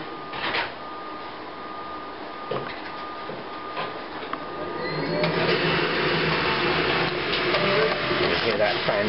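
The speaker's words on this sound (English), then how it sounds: "Hear that fan starting up." The vacuum fan of an HP DesignJet 500 large-format printer spins up and settles into a steady whooshing hum, preceded by a few mechanical clicks and knocks.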